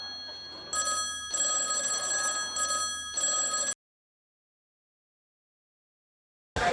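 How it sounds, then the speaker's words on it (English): A telephone rings in several bursts, a bright electronic trill that stops abruptly, followed by silence and a short burst at the very end. "Is that phone?"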